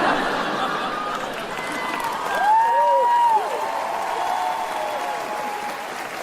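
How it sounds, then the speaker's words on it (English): Audience applause at a stand-up comedy show, a steady wash of clapping with some whoops and crowd voices rising briefly in the middle, heard from the stage side. "Thank you for clapping."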